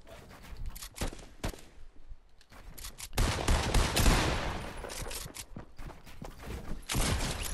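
Pump shotgun blasts and other gunfire ring out in a Fortnite match, with sharp separate reports early and then a louder, denser stretch of shots and in-game effects, close and with no talk.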